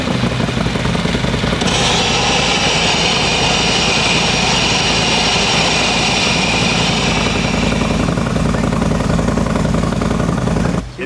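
A Harley-Davidson Street Glide M8 fitted with a Baker GrudgeBox racing transmission runs steadily close by, its loud engine drone joined for several seconds by a high whine before settling back and cutting off at the end.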